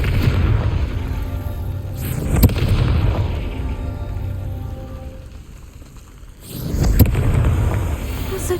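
Confringo blasting spell explosions in the video game Hogwarts Legacy, two loud booming blasts a few seconds apart over a continuous rumbling, crackling backdrop.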